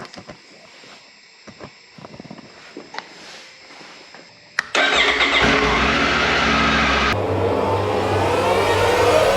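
A Triumph Tiger 900 GT Pro motorcycle fires up after a battery replacement, a sudden loud catch into a steady, close idle that continues evenly after some quiet handling noises before it.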